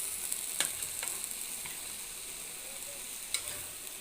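Eggplant tossed with spices in hot frying oil, a continuous bright sizzle broken by several light scraping and tapping strokes of the spoon.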